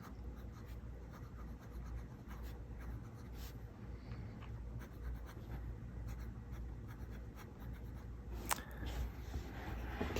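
A Kaweco Collection Iridescent Pearl fountain pen writes on smooth white Rhodia paper, giving a soft, steady scratchy nib drag with faint strokes and one sharper tap near the end, quiet and close.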